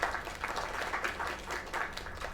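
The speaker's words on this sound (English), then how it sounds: "Go ahead, clap for her." An audience claps in a steady burst of applause, moderately loud and continuous.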